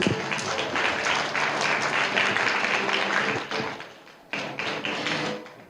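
Audience applause following a signing ceremony for a joint declaration at an open parliament forum in Taiwan, a steady burst of clapping that dips briefly and then resumes before fading.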